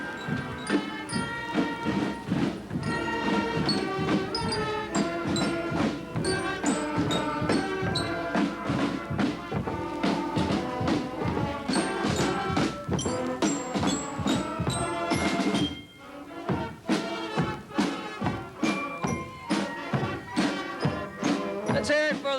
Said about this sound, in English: providing our first Christmas music of the afternoon is the Milton Junior High School Band